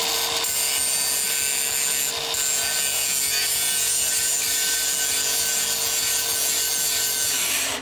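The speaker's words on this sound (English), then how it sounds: "After you stop, you want to go ahead and grind your tack." A grinder works down a weld tack on plate for a 4G overhead weld test, a steady, close, harsh abrasive whine with constant rubbing texture that runs without pause and stops at the very end.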